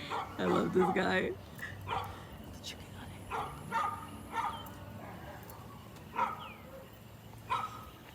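A man imitates a dog with his voice while holding a chicken, letting out a loud burst of barks followed by several shorter yips and whimpers spaced apart, with some talking mixed in.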